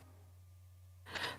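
A single short, sudden sneeze bursts out near the end after a quiet room with a low steady hum.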